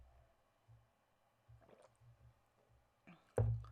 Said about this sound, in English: I was just taking a drink of water because my throat is very dry.